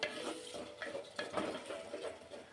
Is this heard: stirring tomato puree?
yes